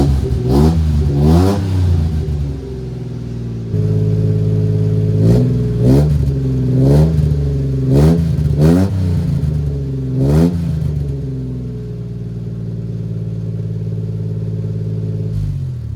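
Custom mini truck with an aftermarket exhaust and a burned exhaust tip, revving hard in repeated bursts over a steady, fairly deep idle, loud and close with no talking.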